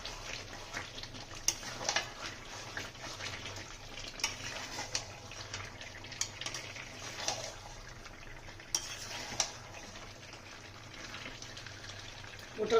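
Potatoes stirred into a pan of duck curry, soft scraping of a spatula and gentle clinks against the pan over a faint, low sizzle, quiet and close.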